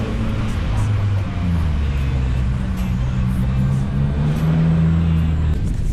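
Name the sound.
Subaru 2015 VA WRX engine with TOMEI catback exhaust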